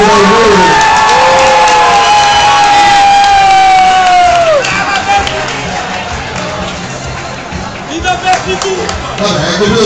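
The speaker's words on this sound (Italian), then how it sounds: "Quindi credo che si meriti un applauso da voi." A large audience at a children's cartoon party fills a hall with loud cheering, applause and children shouting, building to a sustained roar with a long shrill whistle-like cry at the start.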